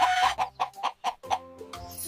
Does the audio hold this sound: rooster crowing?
yes